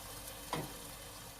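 A pork chop dropped into a hot pan gives a brief sizzling hiss that quickly settles into a low, steady frying noise.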